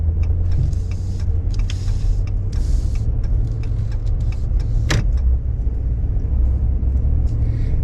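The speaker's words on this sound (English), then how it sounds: "Okay, wait for the traffic to go by." Cars and trucks pass by on Main Street on a clear, warm winter day, a steady loud road rumble with one sharp, bright clatter partway through.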